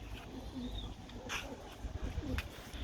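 Soft pigeon coos repeat a few times against a steady outdoor background hum, moderately close and fairly quiet.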